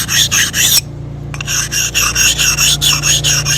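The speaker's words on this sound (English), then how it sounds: "smooth that edge that I've cut a few strokes with the oil stone, just on the corners" An oil stone rubbed over a freshly cut edge on the corners of a metal tank stand: loud, close, rhythmic rasping strokes in a steady back-and-forth, with one brief pause before the strokes resume.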